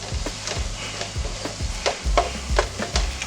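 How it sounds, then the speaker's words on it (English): Garlic, mushrooms and onions cooking in a pan, stirred with repeated scraping strokes in an uneven rhythm over a steady low sizzle, close and moderately loud, with no talking. "Stir them up here."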